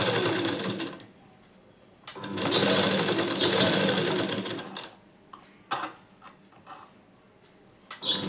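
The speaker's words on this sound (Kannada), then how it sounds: "ಇದ್ರ ಮೇಲೆ ಈ ಪೀಸನ್ನ ಇಟ್ಟು ನೀವು ಸ್ಟಿಚಿಂಗನ್ನು ಮಾಡ್ಕೊಂಡು ಬನ್ನಿ" A sewing machine stitches a hook strip for a garment in bursts: a loud fast whirring run, a pause, a longer run, then short intermittent stitches close to the listener, with little speech.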